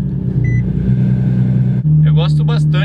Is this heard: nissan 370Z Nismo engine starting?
yes